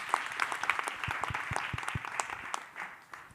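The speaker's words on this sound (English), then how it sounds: "A clap for Bernardia as well" Applause from an audience at a campus retreat session, a short burst of scattered hand clapping in a room that thins out and fades after a few seconds.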